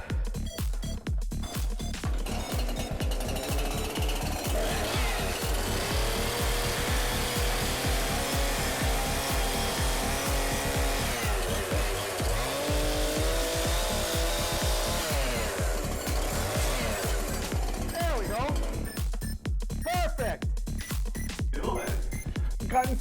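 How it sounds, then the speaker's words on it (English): A saw cuts through wooden molding during home renovation work, producing a loud, steady stream of rapid rhythmic rasping strokes that continues without pause. "Yeah, that was a chainsaw."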